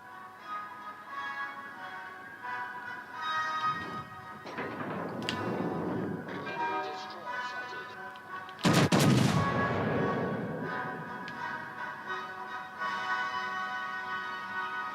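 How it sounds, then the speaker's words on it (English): Incoming naval gunfire from the battleship Bismarck in World of Warships: Legends, with loud shell impacts and explosive crashes bursting over a constant background hum, two heavy blasts standing out near the middle and the end. "Definitely shells coming in from the Bismarck."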